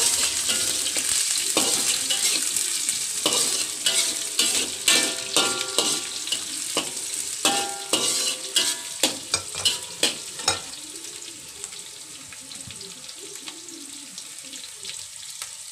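Onions are sautéed for a turmeric coconut bottle-gourd curry, with a close, steady sizzle and a quick run of rhythmic scraping stirs that fade to a quieter fry near the end.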